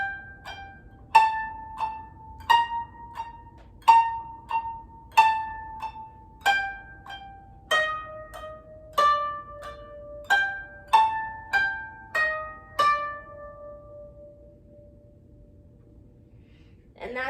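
A koto plays the beginner piece Usagi (Rabbit) using the push technique: a steady sequence of plucked, ringing notes at an even pace, alone and clear, the last note fading out.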